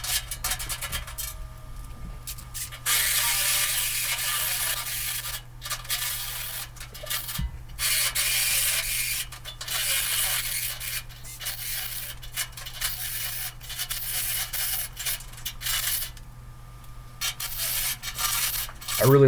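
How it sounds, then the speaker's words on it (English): A long stretch of harsh grinding and rasping as a step drill enlarges holes in sheet metal, running in bursts with short pauses, close and steady. "using the step drill, make those holes a little bit bigger."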